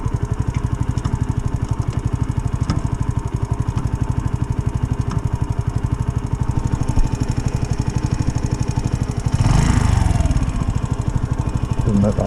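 A Sinnis mini motorcycle engine running warm with a choke fitted, a steady close putter that swells into a louder rough burst near the end, with someone talking under it.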